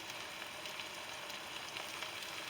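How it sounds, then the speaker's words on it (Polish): Porcini, birch bolete and other wild mushrooms sizzle and crackle steadily in a hot pan with onion, a continuous close frying hiss with no voices. "teraz to Spokojnie sobie smażymy, żeby grzyby się zagrzały"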